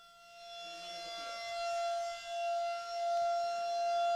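Outdoor warning sirens being tested give a long, steady wail at a constant pitch with bright harmonics, loud and sustained throughout, with a low murmur fading out early on.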